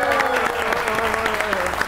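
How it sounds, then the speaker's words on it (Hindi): A crowd claps in a brief, dense burst of applause. "सऊदी अरब के लिए तालियां बजाइए"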